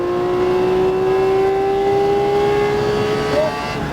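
A Porsche 718 Cayman GT4 RS accelerates hard on the Homestead-Miami Speedway race track, its engine holding a loud, steady high-pitched wail that rises smoothly in pitch, heard close up from inside the car.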